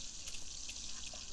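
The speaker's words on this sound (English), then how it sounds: "Who broke the faucet already?" Steady hiss of water gushing from a broken faucet in The Sims 4, a constant bright spray with faint clicks on top, close and continuous.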